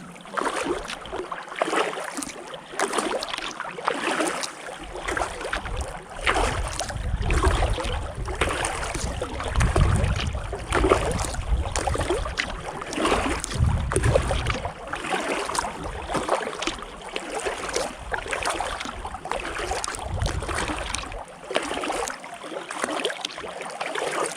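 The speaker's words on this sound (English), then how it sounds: "we definitely have a boat coming up behind us" A powerboat approaches from behind paddlers heading back to a boat launch. Its low engine drone swells and then eases over a constant wash of water and wind, with no talking.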